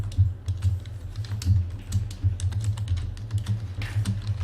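Steady clicking of a computer keyboard pressed during a Photoshop shortcut lesson, with quick irregular keystrokes and clatter over a low steady hum, close and fairly quiet, with no voices.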